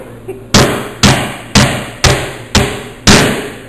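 Hammer blows drive nails into wood during drywall and living-room construction work, six sharp, loud, evenly spaced strikes about half a second apart, each ringing briefly before the next.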